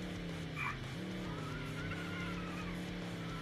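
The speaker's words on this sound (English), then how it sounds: "Oh yeah, epic drift." Car drifting in the video game Crash Wheels, a steady engine drone with a sustained tire squeal sliding through the corner, held at an even level for several seconds with no voices.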